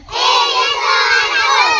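A crowd of schoolchildren gives a loud, sustained enthusiastic shout together at a school assembly, one continuous cheer rising quickly and holding for about two seconds.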